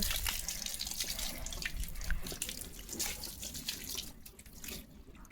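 Water runs and splashes steadily from a hose while bathing a dog, with spattering drips and gurgles, fairly close and moderately quiet, easing slightly toward the end.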